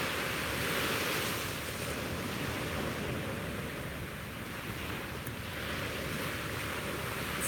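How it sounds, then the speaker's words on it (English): Ocean waves wash steadily onto a beach in the early morning, a continuous broadband surf roar with gentle swells and some wind across the microphone, no voices. "Let me show you the beach this morning."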